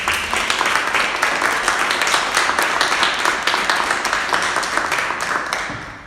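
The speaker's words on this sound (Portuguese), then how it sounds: "Você pode aplaudir o Senhor Jesus?" A church congregation applauds, dense, sustained clapping from many hands filling the room steadily before tapering off at the end.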